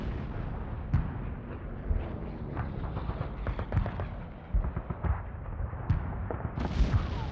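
Heavy booming blasts and rumbling explosions of WWII naval gunfire and aerial bombing on Iwo Jima roll continuously, with sharper bursts of gunfire scattered throughout, like a distant bombardment.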